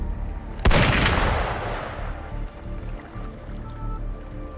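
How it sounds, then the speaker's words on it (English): A single sharp gunshot cracks in the Wuthering Waves video game, its roar decaying over a couple of seconds into a low background hum. "Gunfire! We've got intruders."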